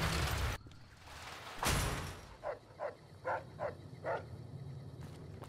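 In the video game Fallout: New Vegas, a dog gives a series of six short barks in an even rhythm at moderate distance, coming after a couple of louder bursts of noise.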